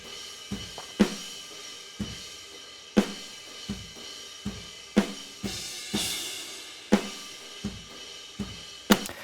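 Cymbals captured with individual close mics plus stereo overheads: bright crashes and hits at a regular pulse, each splashing and decaying, with a hissy wash ringing between strikes and no voices.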